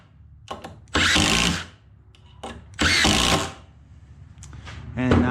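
A Milwaukee 2853 impact driver runs in two loud, close bursts of about a second each, with short handling clicks before and between them.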